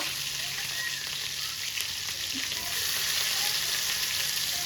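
Drumstick leaves are stirred in hot oil in a pan, giving a continuous dense sizzle and fry, close and fairly loud, with faint stirring movement underneath.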